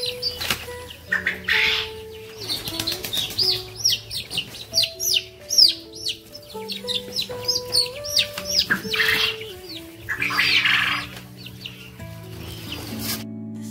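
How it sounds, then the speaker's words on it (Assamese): Asil chicks and other young poultry on a farm in Assam chirp continuously in a busy, overlapping chorus of high peeps, with some clucking and brief wing flutters close by. "সবকেইটা এচিলৰ পোৱালি।"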